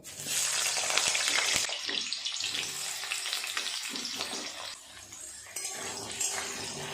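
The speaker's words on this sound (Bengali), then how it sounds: "তেল গরম হয়ে গেছে আলুগুলো আগে ভেজে নেব" Potatoes fry in hot oil for a mutton keema dish, giving a loud, steady, close sizzling hiss that runs the whole time, with an occasional light clink of a utensil against the pan.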